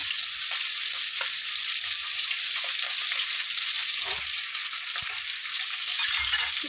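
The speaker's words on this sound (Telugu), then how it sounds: "ఇట్లా ఎర్రగా ఫ్రై అయింది కదా" Chicken sizzles in hot oil with onions, green chillies, chilli powder and turmeric, giving a steady close hiss and crackle with no voices over it.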